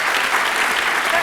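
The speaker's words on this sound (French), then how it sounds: "On applaudit très fort." Studio audience at a French-language TV game show breaks into a short, dense wash of applause, steady and fairly loud for just over a second.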